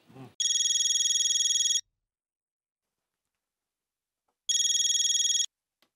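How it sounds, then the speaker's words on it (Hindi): A telephone rings with two separate electronic bursts, each lasting over a second and separated by a long silent gap, clear and close. "जीतू भाई को फोन लगाओ।"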